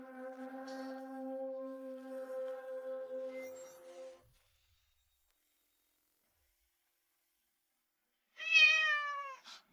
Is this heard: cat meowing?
yes